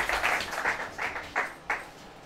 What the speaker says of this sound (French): Applaudissez pour l'Éternel.